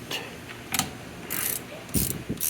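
Wrench ratcheting on a 13mm nut on a 1979 Vespa P200E shock absorber: a few short bursts of metallic ratchet clicking, close and clear, with no talking.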